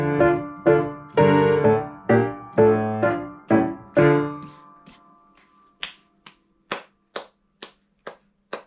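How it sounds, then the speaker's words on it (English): After a few sustained piano chords die away, a single pair of hands claps a quick, evenly spaced run of about seven crisp claps for a rhythm exercise, close and dry with no talk over them. "So this is faster clapping."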